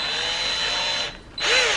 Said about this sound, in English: go up there, drill holes in the wall